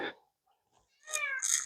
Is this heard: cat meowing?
yes